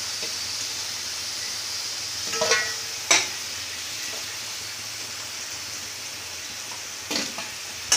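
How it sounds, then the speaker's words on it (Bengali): Steady oil sizzle of frying potatoes, continuous and even, broken by a few sharp clinks and scrapes of a utensil. "এই যে আলুটা ভাজা হচ্ছে"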